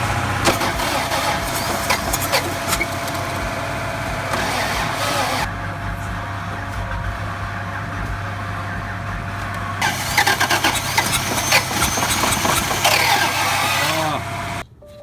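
A rust-free Toyota Land Cruiser FJ60 barn find engine cranks and fires, then runs loud and rough up close, the revs rising and falling as it idles and is blipped.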